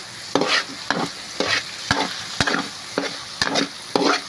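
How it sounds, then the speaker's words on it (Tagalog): Tomatoes and miso sauté in a pan under quick regular stirring, about nine short scraping strokes at a steady rhythm over a soft sizzle, close and without voices. "Pag ginigisan natin yung miso, saka natin lalagay yung patis."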